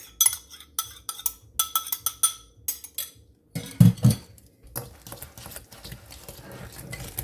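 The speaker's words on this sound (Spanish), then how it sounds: "Voy a batir unos 2 minutitos esto" Egg yolks beaten by hand for alfajores de maicena dough, a run of rhythmic clinking whisk strokes against a bowl, then a pause and a softer, faster, steady patter, close and with no talk.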